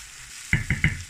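Garlic paste sizzles in a hot pan of beef and onions while being stirred, a steady fry hiss broken by three quick scraping strokes close up.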